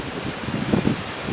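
Strong wind gusts outdoors at an airgun shooting spot, rumbling and buffeting the microphone with a low, uneven roar that swells and fades over a second or so, with no talking.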